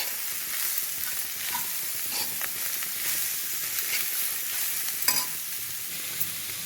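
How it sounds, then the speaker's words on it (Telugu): Onion pieces and green chillies frying in oil with bitter gourd, a continuous close sizzle broken by occasional stirring scrapes and one sharper clink near the end. "వేసి ఇవి కూడా వేగేదాకా వేగనిద్దాము"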